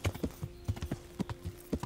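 Horse hooves clip-clopping in the medieval game Kingdom Come Deliverance, a brisk, even walking rhythm of close, distinct hoof strikes with no voices.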